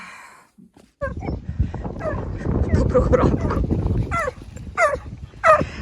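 Dogs yip and whimper in short bursts close by on a walk, with a person speaking briefly at the start amid windy outdoor noise.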